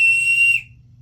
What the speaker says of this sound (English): this is my deer antler whistle